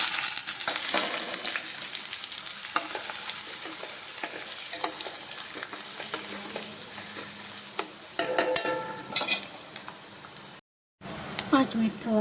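Chopped onion dropped into hot oil tempered with curry leaves, red chili and cumin, frying with a steady sizzle and occasional stirring clatter that runs throughout, with a brief break near the end.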